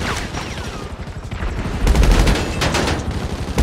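Heavy gunfire in GTA 5, with rapid automatic bursts and overlapping shots forming a loud, dense fusillade that intensifies midway, with no speech.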